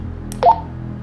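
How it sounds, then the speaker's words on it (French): A paranormal investigation pod device at a night vigil in Fougeret gives one brief, rising electronic chirp over a low steady hum, sounding faint and distant. "Il y a un pod qui vient de sonner."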